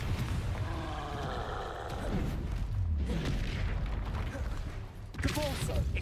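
Confringo blasting curse in a Harry Potter video game, heard as deep booming explosive bursts with rumbling low end amid continuous game noise, with spell shouts and talk over it.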